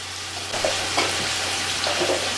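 Carrot, peas and other vegetables sizzle steadily in hot oil for a vegetable biryani, with a few scraping stirs of a spoon breaking through the continuous frying hiss, close and alone.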